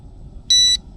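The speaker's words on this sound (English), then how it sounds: "turn on my bite alarm" An electronic bite alarm on a carp rod set in an NGT quick-fish rod pod at a lake gives one loud, sharp, high-pitched beep lasting about a quarter second, alone over quiet outdoor background.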